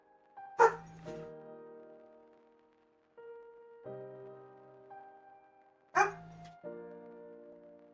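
A dog named Luna gives two sharp, close barks several seconds apart, each trailing into a tonal whine and ringing harmonic cries, in an otherwise quiet room.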